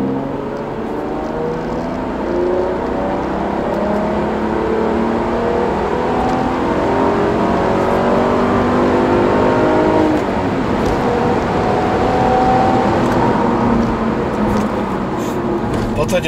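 A Seat Leon Cupra 4 with a V6 engine pulls smoothly and loudly from low revs to high revs. The engine drone rises and holds steady throughout, heard from inside the car.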